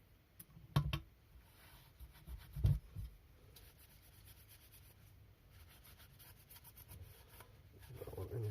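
A rag rubs and wipes over a Stihl TS350/TS400 cut-off saw gasket being cleaned with brake cleaner, with a few distinct close scrubbing strokes early on and then quieter, softer rubbing.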